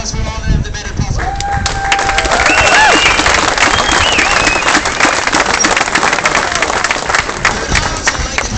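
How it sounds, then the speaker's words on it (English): A crowd at an outdoor biker rally claps steadily and loudly for several seconds, with scattered whistles and cheers rising over the dense applause. "So, a round of applause for all of them that made it possible."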